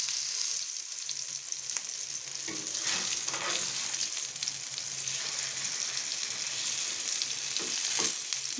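Chicken and chana dal shami kababs fry in a pan of hot oil with a steady close sizzle, occasional crackles and spatters as they are moved, no talking.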